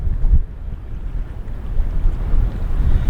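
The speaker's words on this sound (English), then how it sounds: "we just had a gust come up just now" Gusty wind buffets the microphone outdoors at Lucky Peak Reservoir, a loud continuous low roar that swells and dips with the gusts, with no voices.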